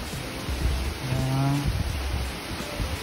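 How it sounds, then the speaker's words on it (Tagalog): Strong wind and rain hiss in a steady wash of noise, with a brief low rumbling tone in the middle, moderately loud outdoors. "Yung lakas ng hangin. Lakas ng ulan."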